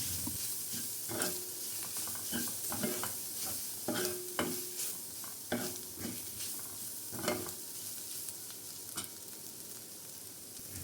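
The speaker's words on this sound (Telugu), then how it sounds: "5 to 10 మినిట్స్ దీన్ని చక్కగా ఫ్రై చేసుకోవాలి" Chicken fries in a pan for Schezwan fried rice, a constant crackling sizzle broken by repeated sharp scrapes and clanks of a spatula stirring, close and fairly loud with no voices.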